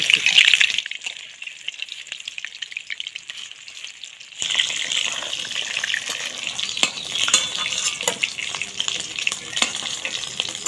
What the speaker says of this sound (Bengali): তেলটা এখন গরম করে নিতে হবে বাটা চিংড়ি মাছটা ভেজে নেব